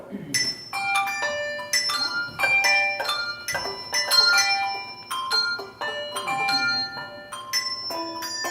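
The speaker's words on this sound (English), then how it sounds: "with the upper bells, you simply take your bell and slap your thumb on it" Small upper handbells ring out in a bell class, each struck with a thumb held against it, giving a series of short, clear, damped dings in an uneven rhythm with quiet talk underneath.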